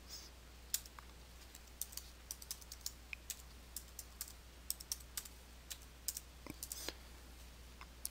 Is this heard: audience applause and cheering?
no